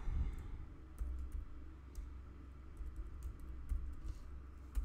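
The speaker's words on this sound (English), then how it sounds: "What is going on with my typing today?" Quiet, rapid typing on a computer keyboard during a coding session, with light scattered key clicks over a low steady background hum.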